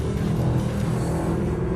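Mercedes SLS AMG Black Series engine running hard through a long corner on track, a loud, continuous, deep droning roar heard close up without letup.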